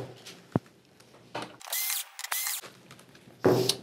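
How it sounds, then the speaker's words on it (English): A power screwdriver backs screws out of a board inside a Sony XBR-49X800G television during repair, with short loud whirring bursts separated by quieter handling clicks and rattles. "Now that we've got those out of the way, we can start removing our screws."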